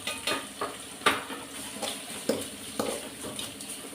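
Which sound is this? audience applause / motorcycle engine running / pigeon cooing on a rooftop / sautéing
sautéing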